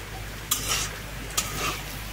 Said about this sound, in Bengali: চাউমিন ভাজবো বলে এই যে আলুগুলো ভেজে নিচ্ছি